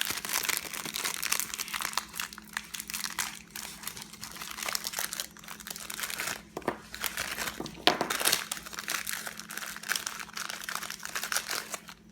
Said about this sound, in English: I'm only going to use half of this packet of biscuits, and I'm going to go ahead and get those broken up now